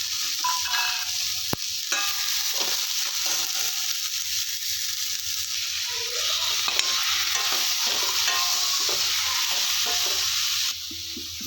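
Radish pieces frying in oil with tomato in a pan for sambar, a steady sizzle running throughout while a utensil stirs and scrapes in repeated close strokes, no voices.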